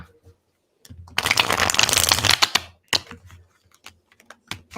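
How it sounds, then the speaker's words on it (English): Tarot cards being shuffled by hand, a close, crisp burst of riffling and flicking that rises for over a second, followed by scattered taps and soft card handling. "So let's we'll pick a few cards here. Let me just shuffle this a little bit."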